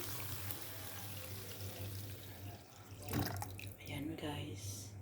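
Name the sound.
water being poured into corn soup pot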